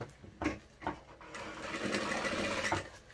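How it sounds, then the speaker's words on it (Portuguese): Sewing machine stitching a seam on a child's item, with a few short clicks and knocks at first and then a steady stretch of running stitches, close and fairly quiet. "então eu vou costurar por esse lado pra mim seguir aqui a linha da minha costura"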